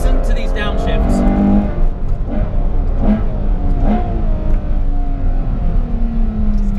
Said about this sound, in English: So we just listen to these downshifts.